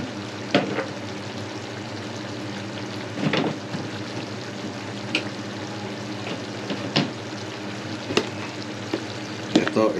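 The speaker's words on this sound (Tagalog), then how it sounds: "Ngayon, pwede na natin ihulog yung ating onion rings." Onion rings dropped into a simmering, thickening bistek sauce in a pan, a steady soft sizzle and bubbling broken by several sharp clinks and scrapes of stirring, close and alone without talk.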